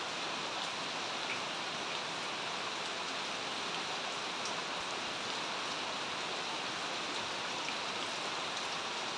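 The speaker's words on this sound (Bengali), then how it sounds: "বৃষ্টি হয়েই যাচ্ছে, হয়েই যাচ্ছে।" Continuous rain on the third straight day of downpour pours down steadily, a soft, even hiss that never lets up, heard alone without any talking.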